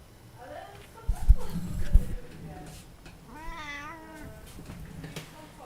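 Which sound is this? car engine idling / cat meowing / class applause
cat meowing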